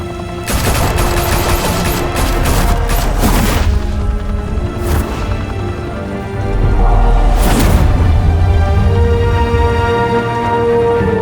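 Gunfire erupts in Batman: The Telltale Series, with rapid bursts and heavy booms layered over a steady low rumble and game music, loud and dense from start to finish.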